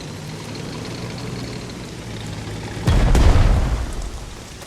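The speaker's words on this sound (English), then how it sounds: "Select the tank and attack the enemy infantry." A tank attacks enemy infantry in the strategy video game Strategic Mind: The Pacific: low background music and ambience, then a sudden loud boom of a blast that rumbles and fades over about a second and a half.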